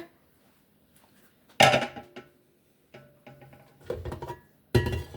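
Coconut cake batter scraped from a bowl into a sprayed cake pan with a utensil, giving several short, sharp clanks and scrapes with quiet gaps between them, close and fairly loud. No talking.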